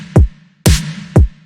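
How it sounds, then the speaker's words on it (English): Retro snare samples from a deep house/future house beat: three punchy hits in a loud, short pattern, the middle one opening with a bright swell like a reversed snare, under a low sustained synth tone and with no talk. "I added some classic retro snare samples and then added a reverse snare hit here on the 2nd and 4th snare hits"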